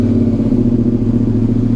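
Suzuki SV650 motorcycle engine idling after a cold start, a close, loud, steady low rumble with an even throbbing pulse and no voices.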